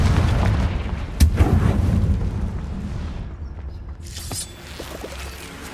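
Confringo spell from Hogwarts Legacy detonating with a sharp, loud booming blast followed by a rumbling tail and a smaller burst later, fading out.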